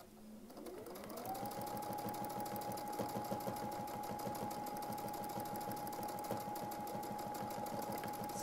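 A sewing machine runs at a steady high speed during free-motion quilting, winding up in the first second and then stitching continuously and loudly without a pause, with no talking.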